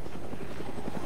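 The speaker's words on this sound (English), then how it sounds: "Let him chase the chopper sound" Helicopter in the DayZ video game flying overhead, a steady continuous rotor thrum with rhythmic low beating, fairly loud and sustained throughout, with no talk over it.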